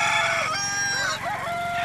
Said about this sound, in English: A rooster is not a beautiful songbird, okay? It's when it yells, it's yelling for a mate.